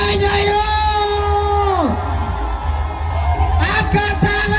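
Crowd at a night carnival sound-system parade in Jember yells and whoops in loud bursts over booming music and a sustained tonal synth line, with voices rising together in cheers.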